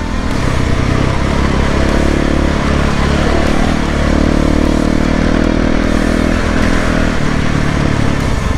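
A new motorcycle cruising at about 50 km/h gives a steady, loud engine drone mixed with heavy wind roar and some rattle, with no talking.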